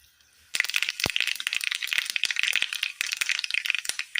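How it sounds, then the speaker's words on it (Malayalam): Mustard seeds crackle and spit in hot oil in a pan, a sudden burst of dense, sharp pops that keeps rattling on close by without letup. "എണ്ണ നല്ലതുപോലെ ചൂടായി വരുമ്പോൾ കടുകിട്ട് കൊടുക്കാം."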